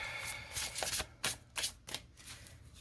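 A deck of playing cards is shuffled in several quick riffling bursts with short pauses between them, close and fairly quiet, with no voices.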